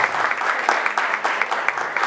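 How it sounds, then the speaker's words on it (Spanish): An audience at a conference on teachers' union challenges applauds a guest professor, with dense, steady clapping close by that keeps a rhythmic pulse throughout and no voices over it. "Un aplauso para el compañero Gonzalo Arcila."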